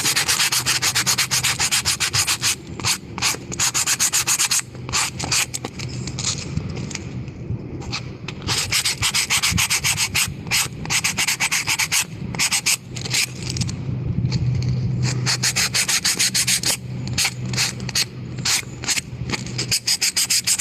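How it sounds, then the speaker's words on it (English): Sandpaper rubs briskly back and forth over the edges of small wooden Jacob's Ladder pieces in close, rhythmic strokes, with a few brief pauses between passes. "if you fold your sandpaper over, it might be a little easier to grab"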